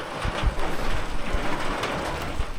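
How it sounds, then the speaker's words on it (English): Steady rain falls on a trail shelter along the Appalachian Trail, a dense continuous patter with scattered louder drips and no voices. "I'm just gonna chill out here until the rain stops"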